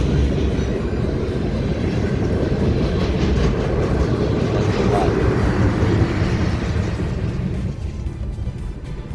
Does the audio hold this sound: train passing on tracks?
yes